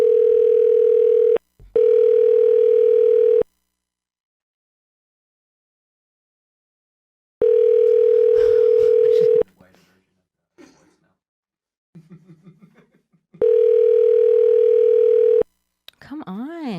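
A telephone ringback tone sounds while a call is placed. Three loud, steady tone bursts come, each a pair of rings separated by long silences, with faint rustling, a brief vocal sound and speech in between.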